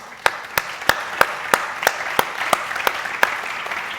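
An audience at a summit session claps in a steady, even rhythm, sharp hand claps ringing out about three per second over a hum of crowd noise.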